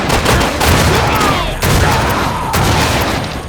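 Loud, booming shotgun blasts from the Quantum of Solace video game, several heavy shots in quick succession filling the mix with little pause between them.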